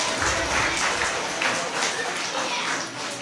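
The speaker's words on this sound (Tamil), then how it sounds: "எல்லாருக்கும் மறுபடியும் நம்ம ஒரு பெரிய கைத்தட்டல் கொடுத்துடலாமா?" Big round of applause from a church congregation at a Christmas service, a dense, steady wash of clapping that fills the room from start to finish with a slight easing near the end.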